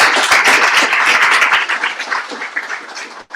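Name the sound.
audience applause after public speech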